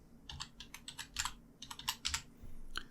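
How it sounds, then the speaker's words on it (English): Fingers type quickly on a computer keyboard in close, irregular bursts of crisp keystrokes, with a brief pause midway and a final single key press near the end; no one speaks. "Once we type it, we can press enter on our keyboard"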